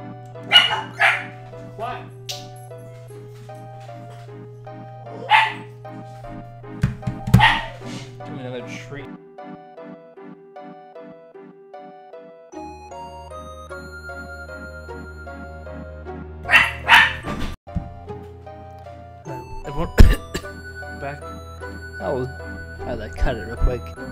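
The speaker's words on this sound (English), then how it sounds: "Dogs barking" Dogs bark in short bursts of several yaps inside the final dungeon of the video game Final Fantasy 7, over steady in-game music with low drones, clustered at intervals through the scene.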